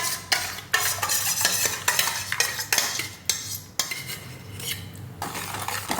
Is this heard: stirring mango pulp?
yes